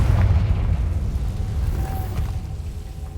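Fire spell explosion cast in the video game Hogwarts Legacy: a loud, rumbling boom that swells at once and rolls on as a sustained low roar for several seconds, with no voices over it.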